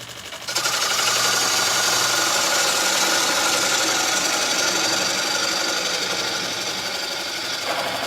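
A gouge riding its bevel across a wooden bowl spinning on a wood lathe gives a loud, continuous hissing scrape over the machine's steady hum, starting abruptly and holding nearly constant.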